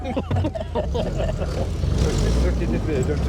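A car being driven gives a steady low road-and-engine rumble from inside the cabin, continuous throughout, with a person talking over it.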